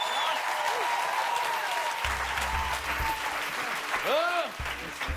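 Applause from a studio audience for improvisers on a comedy improv show, a steady dense wash of clapping that runs through the whole stretch, with faint voices and tonal sounds mixed in under it.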